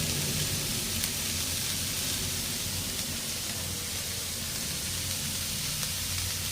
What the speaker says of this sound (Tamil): இது வதங்குற வரைக்கும் கொஞ்சம் வெயிட் பண்ணோம்